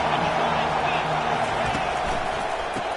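A stadium crowd in the NCAA 25 football video game keeps up a steady, broad roar of cheering, dense and continuous for the whole short stretch.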